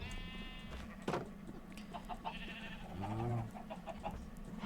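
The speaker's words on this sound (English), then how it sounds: "move everything but the sheep down to here" A Minecraft sheep bleats once, clear and close, partway through, over a low steady game background with a few faint clicks.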